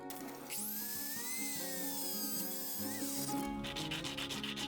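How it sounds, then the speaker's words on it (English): Sandpaper rubs the cut ends of a piece for a seashell display case, making a steady close scratching rasp that runs for about three seconds before giving way to shorter strokes. "Using a piece of sandpaper, I make sure the cut ends don't have any sharp bits poking out"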